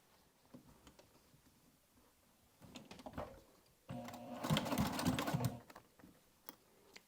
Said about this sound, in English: So now from the front side, we're top stitch through both layers.